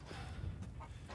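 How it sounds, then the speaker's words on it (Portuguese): A chicken clucks briefly and faintly in the game Resident Evil Village, a few soft, low calls over a steady background hum, with no talking. "Tô ouvindo uma galinha."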